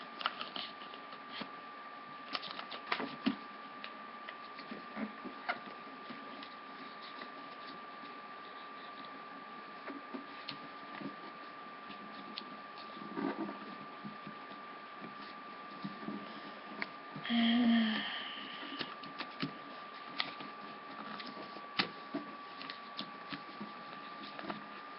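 Paper is folded and creased by hand to make a kunai, with scattered soft crinkles, taps and brief rustles spread quietly across a long stretch, close and faint, one louder scrunch near the end.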